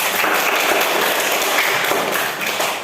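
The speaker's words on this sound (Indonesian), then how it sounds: "Tepuk tangan buat kita semua." Classroom applause, dense and steady clapping from a group of students that fills the whole short stretch at even loudness, with no talk over it.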